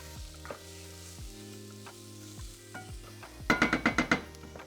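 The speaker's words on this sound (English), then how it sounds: "we'll let the garlic kind of sit on the bottom of the pan for about 30 to 60 seconds until it gets really fragrant" Garlic sizzles on the bottom of a pan at a quiet, steady level, with a few soft scrapes and then a quick burst of metallic clatter near the end. No voices.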